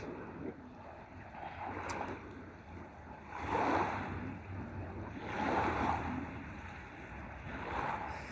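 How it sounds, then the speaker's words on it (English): Ocean waves building as weather turns toward rain, with low surges of surf swelling and receding in slow, rhythmic pulses over a steady background wash, fairly faint and distant with no voices. "The waves are picking up, and it seems like rain is expected."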